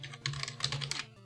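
Quick, uneven clicks of keys on a computer keyboard, close and fairly soft, roughly a dozen taps in a short burst over a faint low hum.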